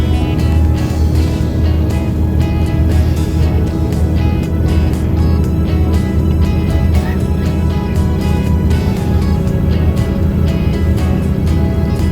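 A Transjakarta bus cruises on a toll road, its engine a loud, steady rumble with continuous road noise heard from inside the cabin.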